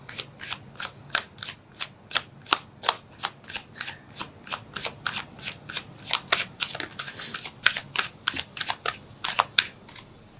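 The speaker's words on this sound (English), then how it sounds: "Let's pull another card." Tarot cards being shuffled and pulled, a steady series of crisp, sharp card snaps and riffles repeating roughly every third of a second, close and clear with no talking.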